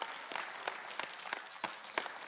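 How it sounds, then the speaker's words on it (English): A church congregation at a Tuesday service claps in praise, with a small group beating out sparse, roughly even hand claps at a moderate distance. "somebody to give the Lord a hand clap of praise"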